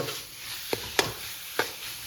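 Onions and tomatoes for chicken curry cook in a pan with a soft steady sizzle, broken by three sharp scraping clinks of a spatula stirring at a close distance.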